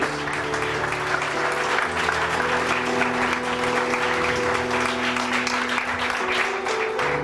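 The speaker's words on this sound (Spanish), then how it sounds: "Si usted lo va a aplaudir, póngale fuerzas" A church congregation claps loudly and steadily for several seconds, a dense, sustained wash of applause with sustained musical tones underneath.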